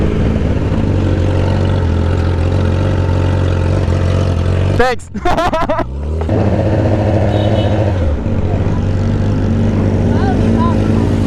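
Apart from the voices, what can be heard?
loud motorcycle engines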